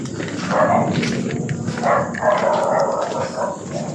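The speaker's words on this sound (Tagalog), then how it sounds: "Why are the dogs barking?" Dogs barking outdoors, several short loud barks in two bursts with a pause between, over muffled background noise and footsteps.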